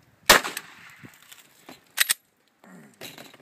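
Handgun shots at a target during tactical pistol training: a sharp loud report, then a pair of quick cracks about two seconds later, with voices talking faintly in between and afterward.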